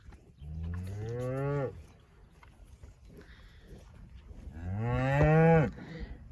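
A cow, a young mother with her first calf, moos twice on a farm: two long, loud, drawn-out lows about three seconds apart with quiet outdoor background between them and no talking.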